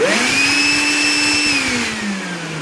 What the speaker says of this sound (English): opens up when you turn on the vacuum and closes when you turn it off